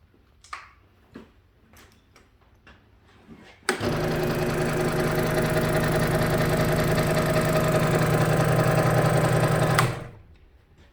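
A Ryobi scroll saw starts abruptly and runs steadily for about six seconds with a loud, rapid buzzing hum of its reciprocating blade, then spins down and stops, after a few faint knocks and handling clicks.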